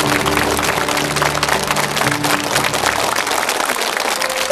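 A television studio audience breaks into loud, dense applause, a continuous roar of many hands clapping that holds steady from start to finish, with a faint tonal hum underneath.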